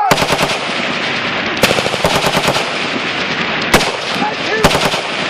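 Bursts of machine gun fire rattle in rapid strings with a few louder single cracks, loud and close throughout, with no talk over them.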